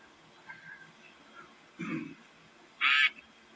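A couple of short electronic quack-like honks sound over faint background noise, the last one louder and more nasal, like a cartoonish duck call.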